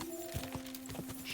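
Horse hooves clip-clop in the video game Kingdom Come Deliverance 2, a few soft, uneven hoofbeats at a walking pace over a low steady hum.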